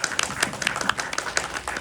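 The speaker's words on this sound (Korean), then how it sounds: "임선우 배우님께도 큰 박수 한번 부탁드릴게요" Brief applause from the audience at a Korean film screening with a guest-visit talk, honoring actor Im Seon-woo: dense, quick overlapping hand claps at close range, steady throughout.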